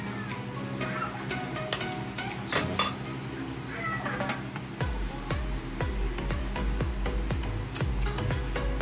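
A pet cat meows repeatedly outside a home kitchen where vegetables and fried fish are being cooked, the cries recurring amid clinking dishes and utensils and low background hum.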